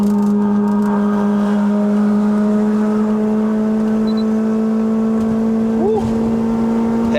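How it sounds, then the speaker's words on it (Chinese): A remapped 2009 Honda City GM2 1.5 engine revs hard on a steep mountain road in Malaysia, giving a loud, sustained engine drone. A person talks over the engine noise. "Happy revving，"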